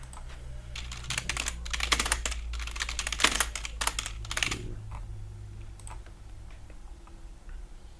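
A computer keyboard tapped in a burst of rapid key presses during software setup, ending with an Enter key stroke, then a few scattered light clicks over a steady low hum.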